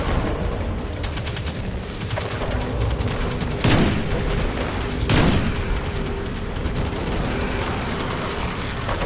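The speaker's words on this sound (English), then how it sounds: "Man, I love this SMG" Submachine gun fire in Destiny 2, rapid rattling bursts under a busy game backdrop, with two sharper heavy impacts standing out midway, close and fairly loud.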